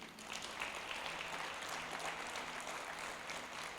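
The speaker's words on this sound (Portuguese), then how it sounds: "Palmas para Jesus." A church congregation applauds together during a Thursday worship service: dense, steady clapping that fills the room without a break for about four seconds, with no clear speech over it.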